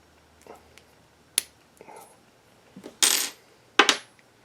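A freshly cut and formed gas check drops out of a Freechex tool, giving a few small, sharp metallic clicks and taps followed by a brighter clattering rattle, close and isolated against a quiet room.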